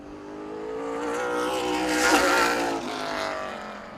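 Lenny Roberts' number 0 race car runs a lap at Birch Run Speedway, its engine note rising and swelling to a loud peak as it passes close, then fading slightly while still roaring on.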